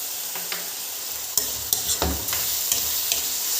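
Green beans and onion are stir-fried in a pan Kerala style, giving a soft continuous sizzle broken by several sharp spatula clacks and scrapes as the mix is stirred, close and moderately quiet.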